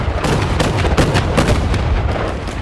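Heavy Zis field cannon firing in the WW2 real-time strategy game Men of War II, a loud, dense run of booming shots and blasts layered over a steady roar of battle.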